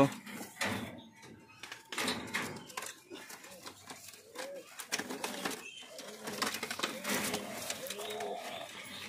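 Mukki pigeons, a crested breed about six to eight weeks old, coo in soft low murmurs close by, while a person talks over them.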